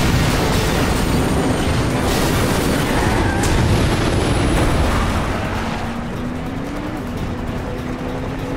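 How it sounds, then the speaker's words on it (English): A train rumbles past in a driving video game, a loud continuous roar with engine noise steady throughout and a low tone drifting slightly, no voices over it. "Captain, there's a train coming."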